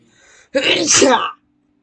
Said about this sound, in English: I sneezed a little.